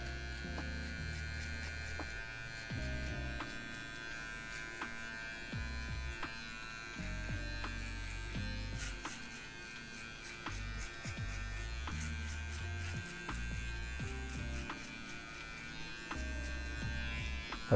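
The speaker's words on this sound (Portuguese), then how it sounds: "E agora a gente vai usar a maquininha de acabamento aqui na parte de baixo" Electric clipper trimming the lower sides of a mid fade in a barbershop, a steady close buzzing hum that runs throughout with small shifts in pitch as the blade moves across the hair, without talk.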